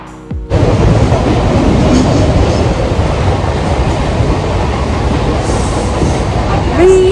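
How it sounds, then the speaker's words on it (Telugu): Loud rumble and rattle fill the first class compartment of a moving Mumbai local train, with steady wheel noise, brief squeals, and clatter throughout after a quiet start. "ఇంకా ట్రైన్లో కూర్చొని ఫస్ట్ క్లాస్ కంపార్ట్మెంట్ ఎట్లా ఉంటుంది"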